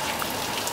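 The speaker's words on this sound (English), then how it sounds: "It's like slightly raining." Light rain patters outdoors at night in Tarpon Springs, a brief, even hiss of drops falling on surfaces with no voices.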